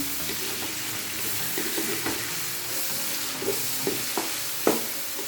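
Chopped tomatoes and green chilies frying for aloo gobi, a steady soft sizzle under light stirring with several spoon scrapes and a sharper clack near the end, no talk.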